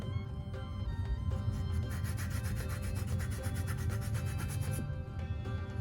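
Lemon zest is grated for a sour-cream-based white sauce with mayo and red wine vinegar, alongside chicken shawarma on a Kamado Joe. Soft, close rasping strokes repeat in a steady back-and-forth rhythm, faint and with no voice over them.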